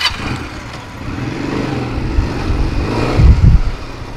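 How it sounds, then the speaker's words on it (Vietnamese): A Honda Rebel 125cc motorcycle engine idles with a rough rumble, then revs up louder near the end, close by with some background noise. "tiếng máy nổ rất là hay luôn, rất là mạnh"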